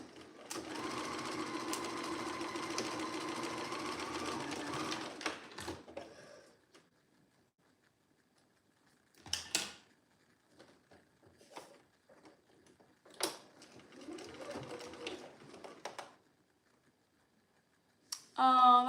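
A sewing machine runs in a steady, close whirring burst for about five seconds while stitching a dress seam, then stops; later come a shorter run and scattered handling clicks.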